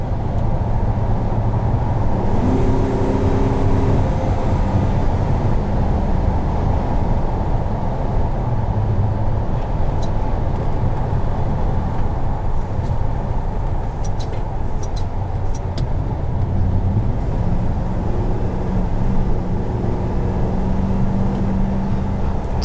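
A 2019 Chevrolet Silverado 4500 LCF cab-over truck drives along with a steady, loud engine rumble and road drone heard from inside the cab, continuous and unbroken for over twenty seconds.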